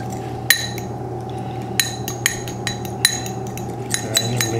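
Chipotle and oat milk cream being mixed with a utensil in a bowl, giving sharp clinks and taps at irregular intervals over a steady low hum, fairly close.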